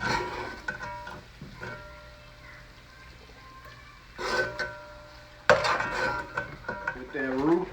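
A spoon scrapes and stirs roux in a pot for chicken, shrimp and sausage gumbo, soft scraping with a few louder clanks and knocks near the end, close and fairly quiet.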